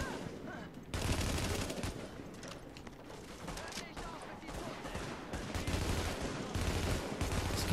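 Gunfire in The Division video game, continuous automatic bursts and overlapping shots forming a dense, sustained firefight over the whole clip.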